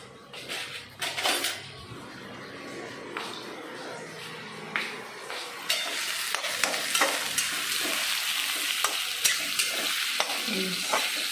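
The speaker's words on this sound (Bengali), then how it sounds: "আলু কেটেছি আর এখন দিয়ে দেবো পেঁয়াজগুলো" Onions sizzle in white oil with ghee for chicken biryani, a close crackling fry with spoon scrapes and metal pan clinks; a soft clatter opens, then the sizzle grows louder and steadier, no speech.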